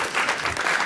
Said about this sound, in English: Can we just have another round of applause for Andrei?